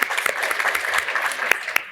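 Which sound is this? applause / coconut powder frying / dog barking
applause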